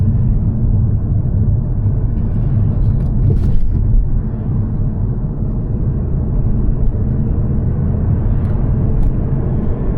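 Car accelerating on a national speed limit road in Glasgow, a steady low engine and road rumble heard from inside the cabin, continuous and fairly loud with no talking.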